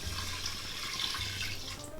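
Water, 1.5 cups, is poured into a pot of rice, making a continuous splashing pour from start to finish with no talking.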